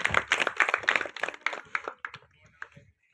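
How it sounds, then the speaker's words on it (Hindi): Audience at a Republic Day function breaking into dense clapping that gradually thins out into a few scattered claps, heard fairly close with no talk over it. "एक बार फिर से जोरदार तालियां।"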